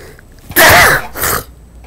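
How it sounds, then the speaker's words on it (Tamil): A single loud sneeze from a man troubled by sinus congestion, a sharp burst followed by a shorter, softer second gust, close up with no talk. "தும்மல்"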